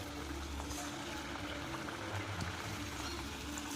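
Nippattu dough frying in hot oil over a medium flame, a steady dense bubbling sizzle that holds even and fairly quiet throughout, with no talk.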